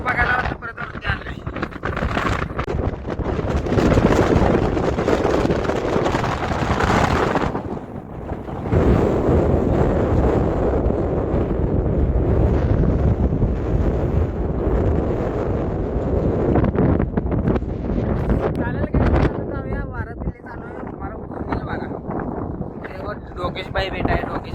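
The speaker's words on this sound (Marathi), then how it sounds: "कारण की वारा चालू आहे म्हणून आवाज येतोय" Strong wind buffeting a microphone at a hilltop viewpoint, heavy rumbling gusts that roar steadily, briefly drop off and surge back.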